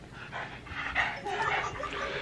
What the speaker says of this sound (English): Lord, and that dog, that's what's going to get on my nerves the most.